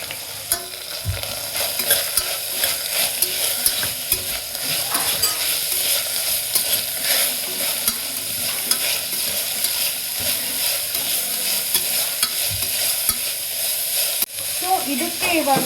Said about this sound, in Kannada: ಇದನ್ನು ಸ್ವಲ್ಪ ಬ್ರೌನ್ ಕಲರ್ ಬರೋ ತನಕ ಫ್ರೈ ಮಾಡ್ಕೊಳ್ಳೋಣ.